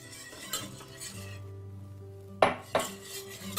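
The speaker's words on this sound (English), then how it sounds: "And just keep whisking the whole time." A whisk works sauce in a pot for stuffed shells, giving close metallic scraping and ticking, then two sharp clanks of metal on the pot near the end.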